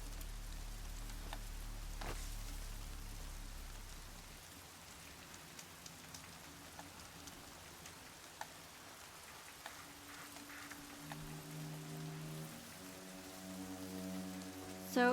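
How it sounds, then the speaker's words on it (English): Steady rain patters on a surface throughout in the video game Horizon Zero Dawn, with occasional louder drops and low sustained musical tones drifting in the background. "More rain. My boots will get damp."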